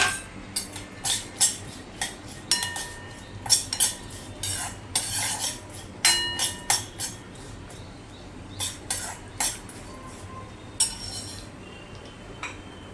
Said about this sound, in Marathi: इथे पण छान परतून घेऊया त्याच्यात आपण घालूया आवडीनुसार काजूचे तुकडे